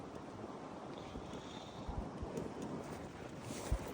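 Wind blows during a snowstorm at a ski resort, a steady broadband rush with faint gusty thumps against the microphone, continuous and fairly quiet, with no voices.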